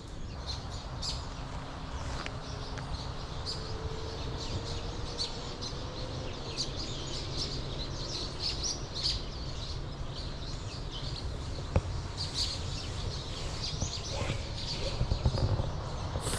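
Many birds chirping and calling all around in a forest, a busy overlapping chorus over outdoor background noise, with occasional faint knocks.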